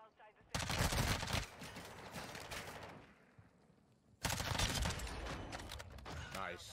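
Rapid automatic gunfire in Call of Duty Warzone 2.0 rattles loud and close in two dense bursts, separated by a quieter lull of softer distant shots, with teammates' voices chattering over the action.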